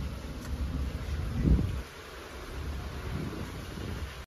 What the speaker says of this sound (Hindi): बहुत बढ़िया वाली बेहतरीन हवा चल रही है भाई